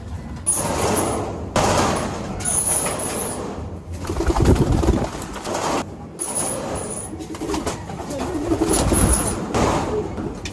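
Pigeons coo in low, repeated calls amid fluttering and rustling bursts, with a voice talking intermittently.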